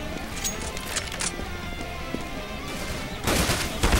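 Gunfire in the video game CS:GO, a busy burst of shots over a steady game backdrop with a louder, denser volley near the end, faint voice traces beneath.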